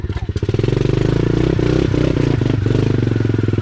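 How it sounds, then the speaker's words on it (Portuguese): A mini motorcycle revs hard on a wet, muddy trail as its wheel spins, the engine pulsing loudly and steadily with rattling clatter, up close and without talk. "A moto tá patinando, cara."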